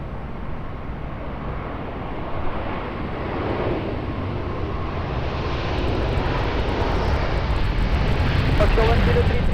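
A Boeing 777 rolls on the runway at Lisbon Airport, a loud steady engine roar and rumble that slowly swells in strength, heard from a distance with no talk over it.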